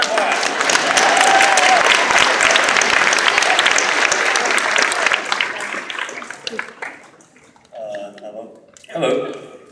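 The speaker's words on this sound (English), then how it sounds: "round of applause" Loud, dense applause from a convention crowd at a celebrity panel fills the first five seconds, then fades as a few voices speak over the thinning clapping.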